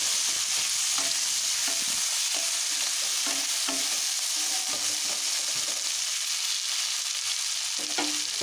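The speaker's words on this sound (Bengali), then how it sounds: "এখন বেশ ভালো করে পেঁয়াজ, টমেটো আর কাঁচা লঙ্কাটা একটু ভেজে নেব" Onion, tomato and green chilli fry in oil in a kadai for a pabda fish curry, giving a steady close hiss of sizzling throughout, with a utensil stirring and scraping at irregular intervals, and no voices.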